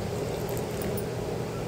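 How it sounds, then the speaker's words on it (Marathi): A mixer grinder whirs steadily as it grinds a spice paste with coriander leaves and water for chicken rassa, a continuous motor drone at even loudness with no talking. "झाकण लावून मी पुन्हा एकदा मिक्सरला फिरवून घेते"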